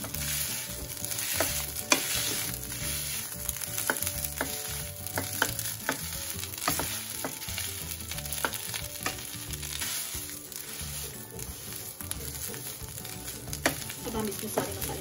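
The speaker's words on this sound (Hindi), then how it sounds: "और अब हमें इसे भून लेंगे" Besan dosa ingredients frying and being stirred in a pan, with a constant sizzle and repeated scraping strokes of a spoon, close and fairly loud, with no talking.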